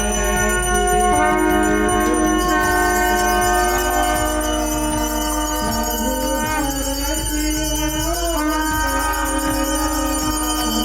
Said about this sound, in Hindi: इतनी आवाज के बावजूद शंख बजाए जा रहे हैं, घंटी की आवाज आपको सुनाई पड़ रही होगी